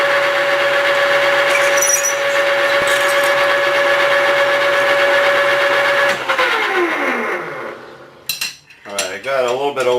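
A steady high-pitched power drill whines for several seconds, boring with a 3/8-inch jobber-length drill bit, then spins down with a falling tone, followed by a few short clatters and bursts.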